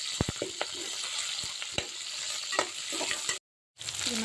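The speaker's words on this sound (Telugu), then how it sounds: "ఉల్లిపాయ వేసాను కాస్త కరివేపాకు వేసుకున్నాను దీన్ని మంచిగా ఫ్రై చేసి" Chopped onion and curry leaves fry in hot oil, giving a steady close sizzle broken by a few stirring clicks and a brief gap near the end.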